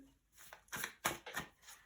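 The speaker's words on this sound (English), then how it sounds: "a little bit of shuffling." Oracle cards riffle and slap together in several quick bursts, close and fairly quiet, with no talking.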